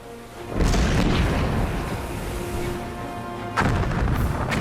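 Heavy artillery bombardment on a WWII D-Day beach landing at Omaha Beach, with deep booming explosions in two loud rumbling bursts, close and powerful with sustained low roar between impacts.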